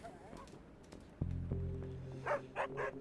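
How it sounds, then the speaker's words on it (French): A dog in the video game Funko Fusion gives a few short, moderately loud barks late in the clip, sounding over faint game music with tonal notes. "Nice le chien."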